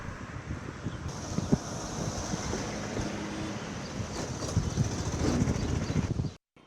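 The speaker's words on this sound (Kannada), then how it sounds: "ಕ್ರಸ್ಟ್ ಗೇಟ್ನಿಂದ ನೀರು ರಿಲೀಸ್ ಆಗಿರಬೇಕಾದ್ರೆ ಕಂಡು ಬಂದಿದ್ದು ಹೀಗೆ" Water released through the crest gates of the KRS dam on the Kaveri river, a steady broadband roar of rushing water with wind buffeting the microphone, continuous and fairly even, rising slightly toward the end before cutting off.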